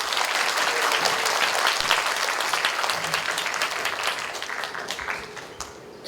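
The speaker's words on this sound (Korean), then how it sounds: "박수로 부탁드리겠습니다." An audience at an apartment reconstruction briefing applauds to welcome a speaker, a steady wash of many hands clapping that tapers off gradually.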